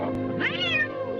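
A cat meows in the 1939 film The Wizard of Oz, one clear, close, drawn-out meow rising then falling over a faint steady background.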